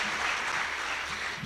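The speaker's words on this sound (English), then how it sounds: "Let's give him a round of applause." Audience applause at a school celebration of excellence scholarship ceremony, a steady wash of many hands clapping through the short stretch with a faint voice underneath.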